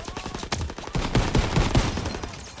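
Rapid bursts of video game gunfire from Call of Duty WWII, with dense overlapping shots and sharp cracks cut into quick volleys, loud and close, with no voices.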